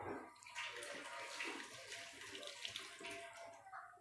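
Water splashes steadily into a bowl of besan (gram flour) batter while dahi bade are being made, a continuous close trickling and sloshing that holds fairly even throughout.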